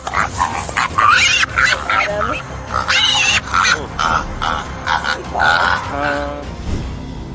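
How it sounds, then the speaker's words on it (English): A stranded pig grunts in repeated bursts at close range beside a road, loud and uneven, with people talking over and between the grunts. "Officers rescue a stranded pig from the side of the road and safely relocate it."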